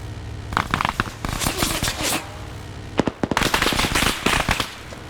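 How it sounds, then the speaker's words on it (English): Bursts of M134 minigun fire from a SOCOM Humvee in a large multiplayer PvP shooter game, rapid crackling volleys in two clusters separated by a short pause, loud and close. "And now you hear the 134 SOCOM Humvee firing up."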